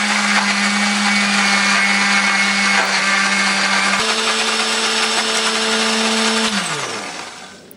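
A kitchen blender grinds shallots, garlic, ginger, coriander and turmeric with a little water, giving a loud steady motor whine that shifts pitch partway through, then winds down at the end.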